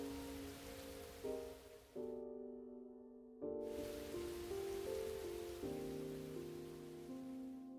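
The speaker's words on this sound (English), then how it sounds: "Rain." Steady rain in the video game The Hundred Line patters continuously beneath layered sustained music tones, with a brief drop-out of the high hiss midway before the downpour returns.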